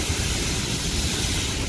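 A bus releasing air in a loud, continuous broadband hiss that holds steady for its short duration, with no voices.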